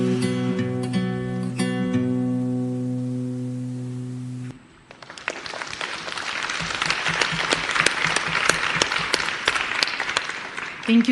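Audience applause after a film screening at a talk on the drug-injection epidemic, starting as music fades out at about 4.5 seconds and swelling into dense, sustained clapping until the end.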